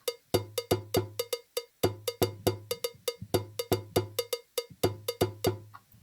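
A cowbell sound in a music beat plays alone in a quick, syncopated pattern: bright metallic clanks, evenly loud and close, with short gaps between phrases and no voices.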